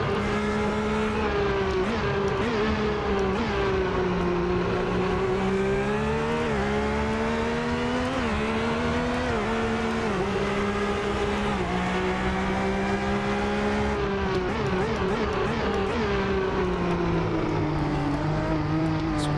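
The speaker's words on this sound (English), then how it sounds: "Watching that F50 take the curbing, it's great." A Ferrari F50 in Assetto Corsa screams along near the limit, its high engine note rising and dipping with gear changes and throttle lifts as it rides over the curbing, steady and close throughout.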